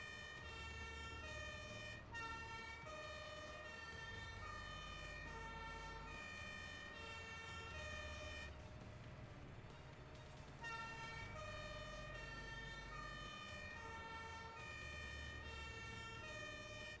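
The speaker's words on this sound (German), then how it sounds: "TLF rückt aus." A fire engine siren wails continuously over a rumbling engine as a tanker fire truck pulls out in Landwirtschafts-Simulator 17, loud and steady throughout with a brief dip midway.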